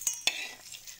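Spices are stirred into curd rice with two quick scraping strokes of a spoon at the start, close and soft, followed by a brief wet mixing rustle.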